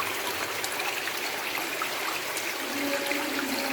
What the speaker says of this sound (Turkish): Burada su çıkıyor. Mağaranın içinde tertemiz su.